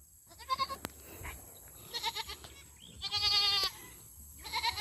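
Several goats at a rural home in the evening bleat in short wavering calls, a few close and fairly clear, others fainter, scattered across the moment over quiet background.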